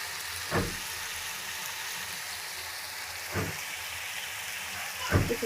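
Heavy rain pours steadily outside as a broad, even hiss through the whole stretch, with a few short louder bursts breaking through the wash while red chicken curry gravy is being cooked down.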